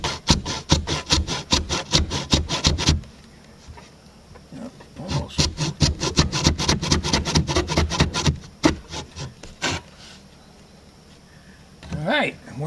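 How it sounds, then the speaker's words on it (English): A hand saw cuts through wood with fast, steady, loud strokes close by, pausing briefly before another run of rhythmic rasping strokes that then slow and fade. "A bit more pressure on the saw."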